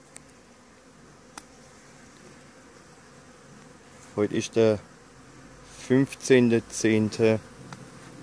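Carniolan honey bees flying around their hives at a home apiary on a sunny autumn day, a steady, even buzzing that continues throughout, with someone talking over it partway through.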